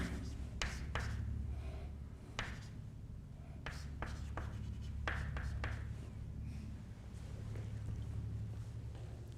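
A pen scratches across paper as a physicist writes the Hamiltonian by hand during a quantum mechanics lecture, with irregular quick strokes and taps over a steady low room hum.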